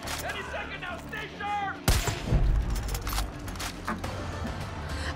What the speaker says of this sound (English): I turned around for 3 seconds and there is shooting.